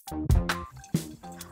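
Plunger pumping clothes in a bucket of water, giving a few wet sloshing squelches and splashes in an uneven rhythm, close and fairly loud.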